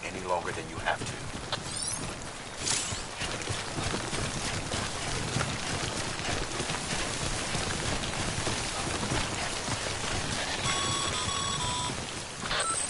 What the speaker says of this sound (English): Don't stay out in the rain any longer than you have to.